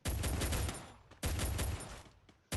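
USP pistol gunfire in a shooting video game, heard as loud, rapid volleys of shots in three bursts separated by brief pauses.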